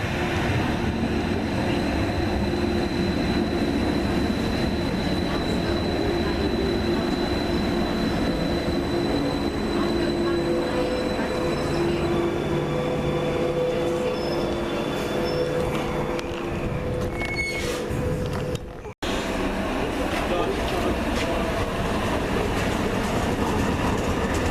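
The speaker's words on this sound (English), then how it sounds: "This looks like one of the new trains coming in." A new Tyne and Wear Metro train pulls in and terminates at Whitley: steady rolling rumble with wheel clatter and a sustained squealing whine that shifts pitch as it slows, then a brief abrupt drop near the end.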